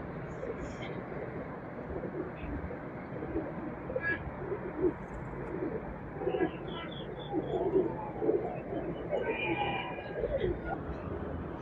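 Golden breeder pigeons coo softly and repeatedly over a low background murmur, with occasional brighter bird calls mixed in.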